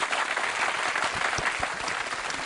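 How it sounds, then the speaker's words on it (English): Audience applause at a televised English-language school olympiad quiz, steady dense clapping throughout, with a few louder claps standing out near the middle. "We're clapping."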